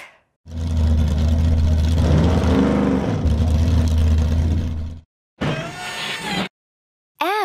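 A loud, sustained monster truck engine roar with a deep rumble, holding steady for several seconds before cutting off, followed by brief bursts of other sounds.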